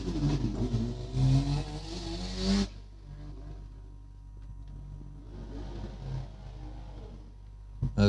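A Mazda RX-7 with a Wankel rotary engine climbs a lakeside hillclimb course, revving hard and loud at first, then receding into a distant, fainter engine drone as it rounds a hairpin toward the mountain top.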